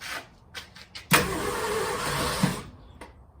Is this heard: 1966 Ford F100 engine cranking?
yes